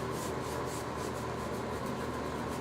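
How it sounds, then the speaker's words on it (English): Close, steady scratchy rubbing as a paintbrush scrubs paint onto a craft surface, a continuous bristly scrape with a soft rhythmic pulse and no talk. "just kind of scrubbing it in because I don't care about this paintbrush"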